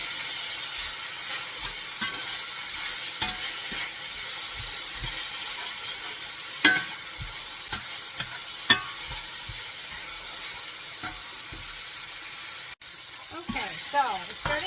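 Green chilies and garlic fry in a pan for pozole, a soft constant sizzle broken by repeated sharp clacks and scrapes of a stirring utensil, louder bursts scattered throughout, with no speech.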